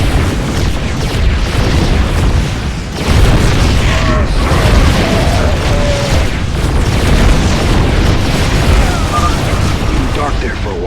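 Cannon fire and explosions from the video game StarCraft II: Legacy of the Void thump as heavy, repeated booms over a constant battle din, with brief tonal effects layered between the blasts.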